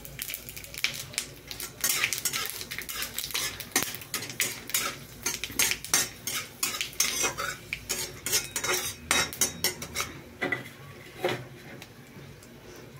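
Panch phoron spices cook in a pan for a simple vegetarian curry while a utensil stirs and scrapes against the metal in a busy, close clatter of quick clinks, with a faint sizzle underneath.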